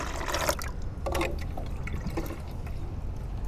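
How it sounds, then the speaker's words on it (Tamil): Plain water is poured into a homemade plant fertilizer mix of ground leaves and rice-washing water, making close, trickling, splashy pouring sounds in a few bursts over a steady low background. "இப்போது தண்ணி ப்ளெயின் வாட்டர் 5 மடங்கு சேர்க்கலாம்"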